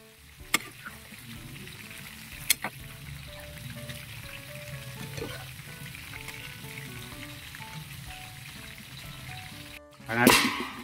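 Vegetables for pakbet drop into a hot pan already holding garlic, onion and tomato, giving a steady close sizzle and frying hiss with a few sharp clanks of utensils and a louder burst of sizzling near the end.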